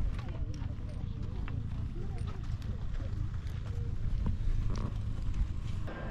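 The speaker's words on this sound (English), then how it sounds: "Right, so you got some horses out there, some alpacas." Horses moving along a trail on Peru's Rainbow Mountain, with faint hoof clip-clops under steady wind noise and nearby talk; the footfalls are light and irregular rather than prominent.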